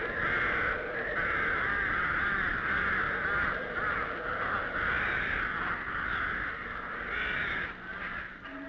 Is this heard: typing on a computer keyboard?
no